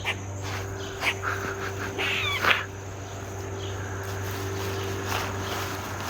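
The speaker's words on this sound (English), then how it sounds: "We pissed off an owl last night when we were outside filming." An agitated owl calls at night outdoors, faint, distant screechy hoots over a steady chorus of crickets and insects, with no talking.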